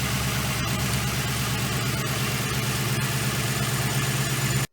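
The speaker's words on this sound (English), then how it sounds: "I think one of the idler belts is making a noise." A running SAAB project car engine idles steadily with a continuous mechanical whine from a noisy idler belt, close and constant for several seconds, with a few faint ticks and knocks before it cuts off abruptly.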